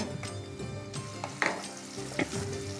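Green chilies and masala fry in hot oil in a kadai, a steady close sizzle broken by a few clinks and scrapes of stirring.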